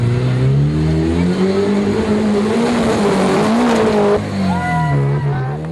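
A 4x4 crawls over a tire pit at the Maxxis National 4x4 Challenge in Rayton, its engine revving loud and steady throughout, with a tire squeal or skid near the end.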